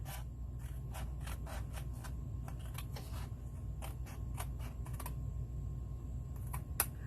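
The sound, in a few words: scissors cutting card along a score line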